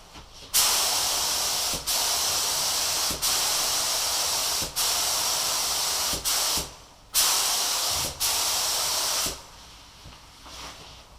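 Repeated bursts of spraying water-based Liquid Armour H2O liquid wrap onto car badges, a steady loud hiss held for one to two seconds at a time with brief gaps between passes, no voices.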